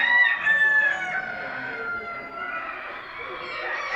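Several ornamental chickens and roosters cluck and crow together at a poultry show competition in Afyon, a busy, continuous din with overlapping calls.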